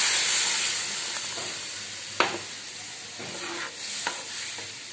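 Milk being stirred into a golden-brown maida roux for white sauce in a pan, a steady soft hiss and sizzle with a few sharp scraping clicks of the spoon, close and continuous with no talking.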